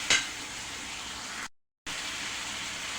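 Garlic, ginger and onion paste fries in a pan with a steady broadband sizzle and stirring scrapes, broken by a short silent gap midway, then resuming at the same even level.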